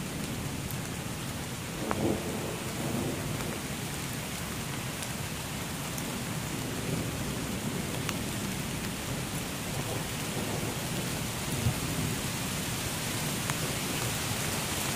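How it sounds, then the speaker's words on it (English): Heavy rain pours steadily through a metal-sculpture rainforest while thunder rumbles low and continuous beneath it, with a few sharper cracks; no voices. "I don't even know how much of that is thunder and how much is airplanes."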